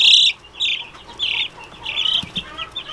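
Week-old meat chicks in a brooder cheep in a steady series of high, sharp peeps close by, with soft rustling underneath.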